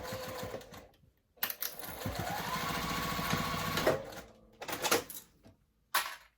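A sewing machine runs in close bursts while stitching a seam allowance, with one long steady run of rapid needle clatter between short stops and starts.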